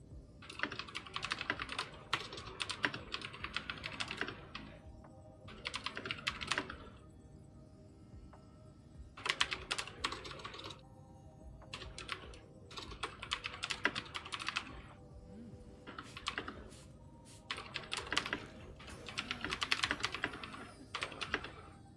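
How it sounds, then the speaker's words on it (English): Fast typing on a computer keyboard while an email is written, with dense bursts of clicking keystrokes separated by short pauses, close and fairly loud throughout. "I'm typing an email to YouTube right now"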